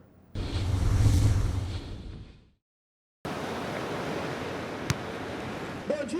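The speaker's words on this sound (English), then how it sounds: "We're coming to you from Ipanema Beach, just one of the famous strips of sand in the city." Surf on Ipanema Beach in Rio de Janeiro, a broad wash of breaking waves swelling and fading, cut to silence for a moment, then a steady ocean rush with wind buffeting the microphone and a few small knocks.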